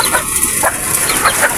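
Young Sweater gamefowl chicks about two months old cluck close by in a backyard pen, giving a loud, steady stream of short calls with no one speaking over them.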